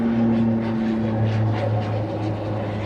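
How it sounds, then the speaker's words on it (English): Airplanes flying overhead above low cloud cover make a steady, loud droning rumble with a low engine hum that holds throughout, with no talking. "I cannot actually see the airplanes that have been flying overhead"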